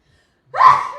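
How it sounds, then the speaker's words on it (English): A single sharp sneeze bursts out after a moment of silence, close and fairly loud, with a breathy trailing exhale. "I'm going to sneeze"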